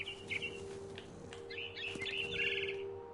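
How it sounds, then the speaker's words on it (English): A bird chirps in the game What Remains of Edith Finch, bright repeated tweets and short trills rising over a steady hum of game ambience, clear and fairly close. "Follow this bird along."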